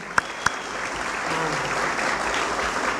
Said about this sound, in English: I want to give them a special round of applause for all you do.